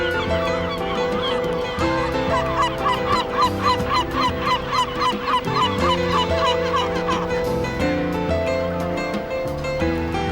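A colony of seabirds calls on a coastal nature reserve on a reef off Portugal, with many honking cries repeating in quick bursts over a sustained tonal backdrop, steady and fairly close, with no voices.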